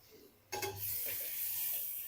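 Chicken frying in a pan with coriander, mint and lemon for chitti muthyala pulao: after a quiet moment a loud, steady sizzle bursts in and holds, with a few soft stirring scrapes, no voices.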